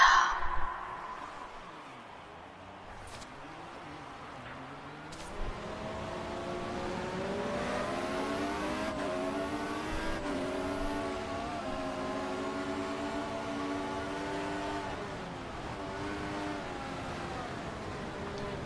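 Formula 1 cars in a racing video game pull away at the start of a race at the Italian circuit. A droning chorus of engines climbs in pitch through the gears and stays steady and fairly distant, with no one speaking.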